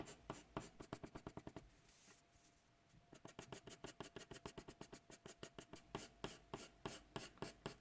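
A 4B graphite pencil shades on paper in brisk back-and-forth cross-hatching strokes, close and steady, with a short pause midway before the rhythmic scratching resumes.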